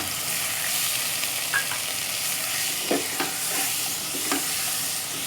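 Tomatoes and dry spices frying in a pan for bhindi masala, a loud continuous sizzle close up with a few sharp stirring knocks and scrapes, no voices.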